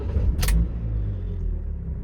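A 2016 Ford Transit Custom van engine cranks and fires, a brief burst of starter noise settling into a steady, low idling rumble close by, with no talking.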